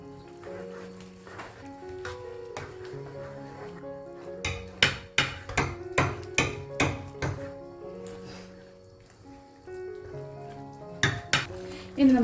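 A spoon scrapes and clanks against a pan while potato bhaji is mashed and mixed, with a quiet stretch and then a run of sharp, evenly spaced metallic knocks, a pause, and a few more close knocks.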